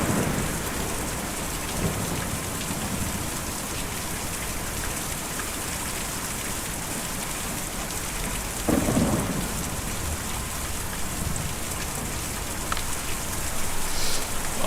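Steady heavy rain on a surface with rolling thunder, a continuous dense wash throughout with a low rumble building midway and no voices over it.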